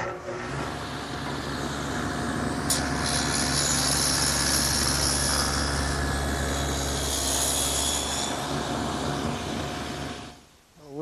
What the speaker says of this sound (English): the last groove that I have to make is in the side of each piece, and that'll provide a track for the runner to go